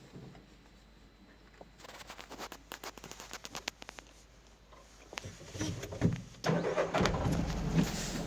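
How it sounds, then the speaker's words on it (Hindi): A 22-foot Eicher truck engine cranks in a quick burst of rapid clatter, then catches and settles into a rising, rough running rumble close by. "चालू हो गई अपनी गाड़ी"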